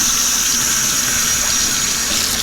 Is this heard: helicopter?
no